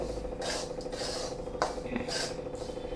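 Semolina (rava) roasting in a pan for upma, giving soft, continuous scraping and stirring close up, faint and steady with brief rubbing accents.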